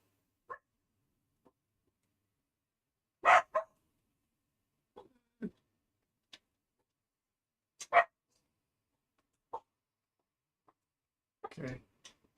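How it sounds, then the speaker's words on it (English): Puppies barking indoors, a scattering of short, sharp yaps and barks, some louder and some fainter, separated by quiet gaps. "Why are they barking?"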